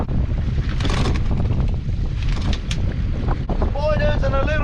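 Strong wind buffets the microphone aboard a small fishing boat at sea while crab and lobster pots are hauled, a loud continuous roar with a brief mechanical whine near the end.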